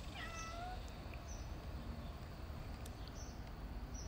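A little cat meows indoors, a few faint, short calls early on against a steady background hiss, with no talking.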